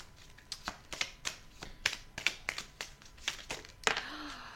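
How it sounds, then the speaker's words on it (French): Tarot cards are handled while a bonus card is drawn from the deck, a quiet series of close, irregular flicks and taps with a soft slide near the end. "Je vais prendre une carte bonus."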